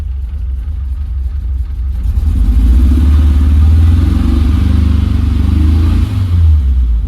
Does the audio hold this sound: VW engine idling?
yes